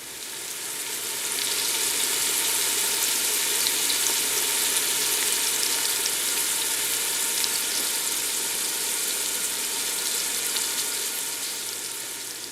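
Onions sizzle and fry in a pan over medium-high heat as the base of a tomato sauce, a steady loud hiss that holds evenly throughout with no talking.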